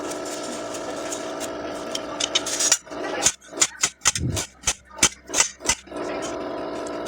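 A knife chops carrots on a cutting board for bibimbap, about a dozen crisp, sharp knocks in a quick uneven rhythm, close and clear after a stretch of steady background hum.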